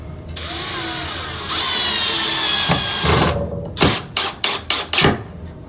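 A power drill drives screws, first in a long steady whirring run, then in five or six short, sharp bursts of the motor near the end, close and loud.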